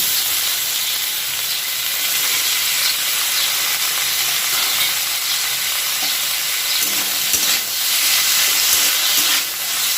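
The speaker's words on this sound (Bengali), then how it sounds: "এবার বাকি তেলটাতে আমি সেই টুকরো আলুগুলো দিয়ে দেব।" Potato pieces frying in leftover oil for paneer-stuffed Kashmiri aloo dum crackle in a loud, continuous sizzle, with faint scrapes of stirring now and then.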